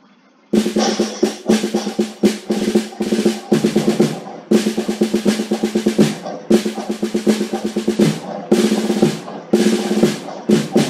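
A marching-band snare drum plays rapid, crisp rolls and accented strokes in bursts with short pauses, loud and close, with no talking.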